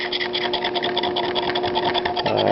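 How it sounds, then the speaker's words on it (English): Silver plating being scraped off a metal piece by hand, a steady busy rasping texture running continuously at close range, with a heavier, denser patch near the end. "Scraping all the silver off"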